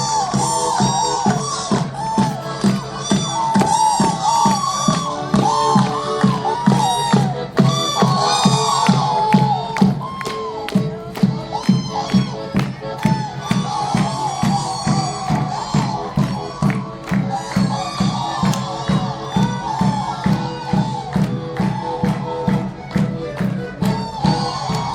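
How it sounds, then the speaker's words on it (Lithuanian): A festive crowd at a Shrovetide (Užgavėnės) street celebration in Ukmergė cheers, whoops and claps along to a lively brass march, the beat steady and loud throughout with voices shouting over the music. "Su maršu išlydim, jos turi skrist kitur, su plojimais ir maršu."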